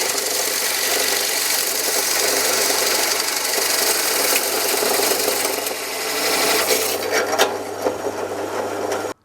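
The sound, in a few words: drill drilling through wood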